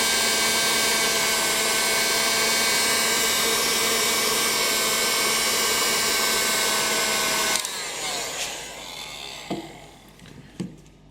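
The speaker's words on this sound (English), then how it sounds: "I heat up the sensor with this heat gun" Heat gun blowing hot air onto a VW Golf 6 heater temperature sensor: a loud, steady whining blower hiss that cuts off partway, followed by a few faint clicks and handling knocks.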